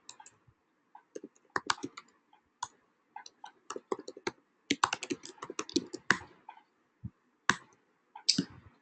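Typing on a computer keyboard, irregular clusters of crisp key clicks with short pauses between bursts, close and clear with no talking.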